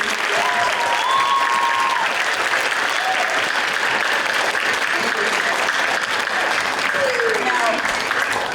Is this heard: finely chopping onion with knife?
no